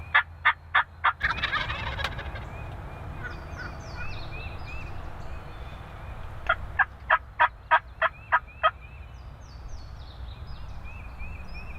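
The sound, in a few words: wild turkey gobbling in the morning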